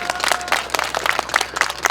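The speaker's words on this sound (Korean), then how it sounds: "여러분 큰 박수 붙여야 됩니다" Audience clapping at a political talk event, a short burst of scattered hand claps from a modest crowd, fairly close and steady with no voices over it.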